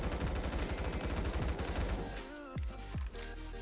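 Rapid automatic bursts from an SMG, the G36C, fired in the online shooter Phantom Forces: a dense, steady stream of shots that cuts off, followed by a few trailing single reports and echoes.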